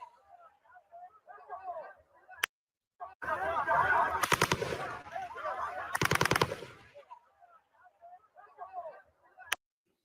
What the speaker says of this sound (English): You can hear the shots in the background going off.